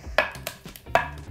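A knife chopping garlic on a board, making two or three crisp, close knocks spaced irregularly in an otherwise quiet kitchen during pretzel baking.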